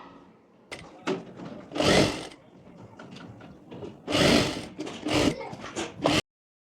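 Sewing machine stitching a belt piece down the middle of a kurti, in two short bursts of loud mechanical whirring separated by quieter handling and a pause, heard up close.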